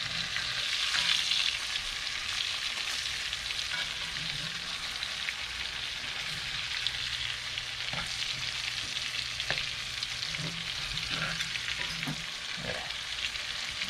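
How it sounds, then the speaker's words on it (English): Fish frying in a pan on a beach give a steady crackling sizzle with clusters of sharper pops and spits, close and constant for the whole stretch with no voices. "It don't take long to cook this fish."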